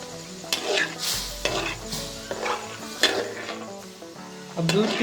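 Soaked moong dal is fried in half a litre of milk for halwa while being stirred in a pan, with loud, close scraping strokes, bubbling sizzle and repeated spoon clanks in an uneven rhythm, and no voices.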